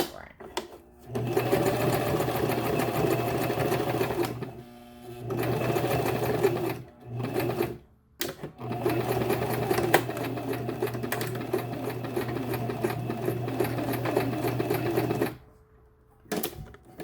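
A sewing machine stitches a wig in long, rapid mechanical runs, loud and close, broken by several short pauses as the fabric and hair are shifted.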